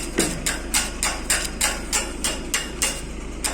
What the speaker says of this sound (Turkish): Çapağı kırayım.